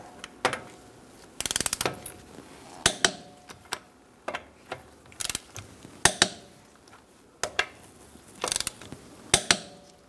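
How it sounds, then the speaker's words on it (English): A 19mm socket wrench ratchets as wheel lug nuts are torqued to 100 foot-pounds on a 2012-2018 Ford Focus 2.0L, giving close, sharp clicking bursts at irregular intervals. "Using a 19mm socket, we're going to torque our wheels to 100 foot-pounds."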